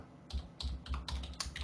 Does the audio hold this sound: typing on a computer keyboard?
yes